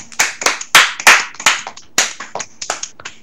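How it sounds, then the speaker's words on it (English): A small group of people clapping after someone finishes eating 40 pizza rolls, a quick burst of sharp, close claps in an uneven rhythm that loosens toward the end. "Alright, everyone clap for him."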